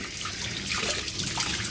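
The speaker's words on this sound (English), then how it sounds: "I want to clean it up to where my brush is just clear water coming out of it" Tap water runs steadily into a sink while a paint brush is rinsed clean beneath it, a close, continuous splashing rush with slight changes as the bristles move through the stream.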